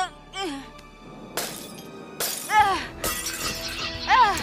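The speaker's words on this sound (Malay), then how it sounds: "pecahkan cermin dengan tukul kecemasan" A mirror shatters in two bright, sharp crashes with tinkling debris, between short voice-like electronic chirps and sweeps, in a cartoon.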